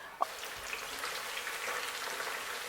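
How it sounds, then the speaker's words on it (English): Potato pieces sizzle steadily in hot oil in a pan, cooked for a Cameroonian potato hotpot, with a constant dense crackle and a small clink near the start, close and moderately quiet. "Continue to fry, guys, until your potatoes are golden brown."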